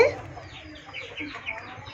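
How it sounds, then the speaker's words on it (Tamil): A big rooster clucks at home on a backyard poultry setting, soft, close murmuring clucks repeating irregularly over a low background, with a person's voice faintly present. "இங்கே பாருங்க இதுதான் நம்ம வீட்டில் பெரிய ரூஸ்டர்"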